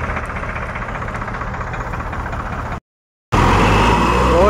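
A tractor engine idles on a farm during a trolley swap, a steady loud low rumble that cuts out briefly and then resumes slightly louder and rougher.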